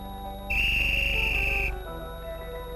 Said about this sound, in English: Or blow a whistle into the phone.